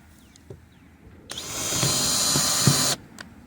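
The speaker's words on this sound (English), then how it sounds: "I'm drilling as I go" A battery-powered drill bores into a chicken coop foundation, one steady burst of about a second and a half, close and loud, with faint knocks before it.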